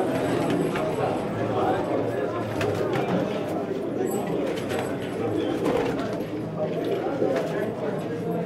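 Pigeons coo continuously at a crowded pigeon market in Peshawar, with a steady murmur of voices and bustle around them.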